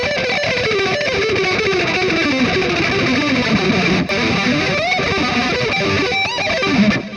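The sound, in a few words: sloppy electric guitar playing with poorly synchronized hands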